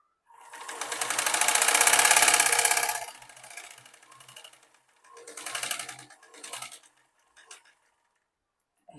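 Sewing machine running a double line of stitching on a baby elastic frock: a long, loud steady whirring burst, then shorter start-stop runs of stitching with pauses between.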